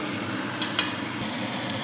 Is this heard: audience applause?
no